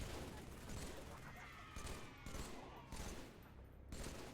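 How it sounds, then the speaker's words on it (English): Bursts of gunfire in Halo 3 go off in quick volleys across a few seconds, fairly faint and mixed with game background noise. "Cool, there's snipers down there."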